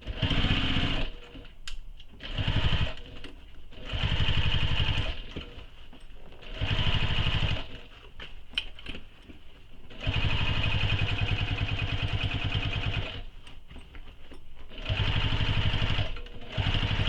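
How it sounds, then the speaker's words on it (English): Stitching the second side of a Kayla commuter tote, a sewing machine runs in repeated whirring bursts, some short and some long, separated by brief stops, close up and fairly loud. "we will sew this second side"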